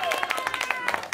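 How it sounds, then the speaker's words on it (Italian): Short burst of clapping from a small family group at a child's surprise birthday party, quick and close, with voices mixed in. "Applausi!"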